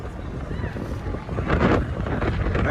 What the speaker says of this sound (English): It's very windy in the background.